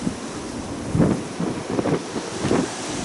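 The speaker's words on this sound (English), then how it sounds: "Excuse the wind, folks." Wind buffets a microphone on an allotment in mid-November as a steady low roar with rumbling gusts swelling and easing every second or so, loud and close, with no talk.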